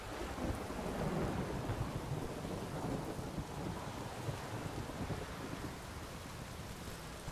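Steady rainstorm with rolling thunder in The Witcher 3: Wild Hunt on PS4, a continuous dense wash of rain under low rumbles, moderately loud and alone without talk.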